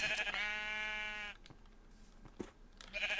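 A Minecraft sheep gives one long, clear bleat, followed by faint clicks and brief game sounds, and a second bleat begins at the very end.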